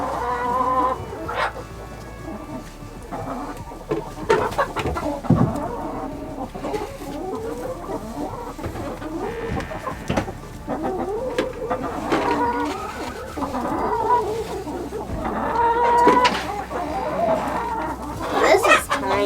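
Chickens clucking and calling in a coop while roughly fifty birds are shut in for the night, a steady busy flock chatter with people talking nearby throughout.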